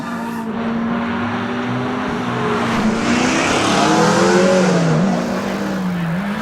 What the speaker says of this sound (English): Nathan Robbins is testing out his Subaru at the moment.